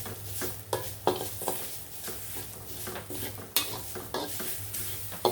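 Grated coconut dry-roasting in a pan, with repeated scraping stir strokes and light crackle, close and fairly quiet, steady rhythm of spatula passes with no talk.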